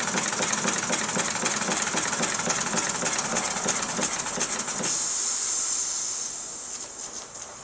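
A Mamod SP7 model steam engine runs with a rapid hissing chuff and steady steam hiss, close by; the beat stops partway through and leaves a fading hiss.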